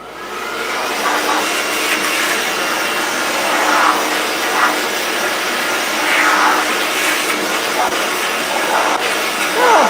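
An electric disc sander running continuously in a woodcarving shop, giving a steady, loud whirring hiss with slight surges in intensity and no pauses.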